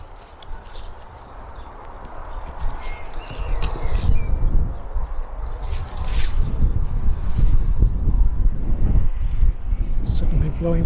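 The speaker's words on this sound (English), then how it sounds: "Suddenly blowing windy." Steady wind rushes and buffets outdoors, rising in strength, with low rumbling gusts and occasional rustling.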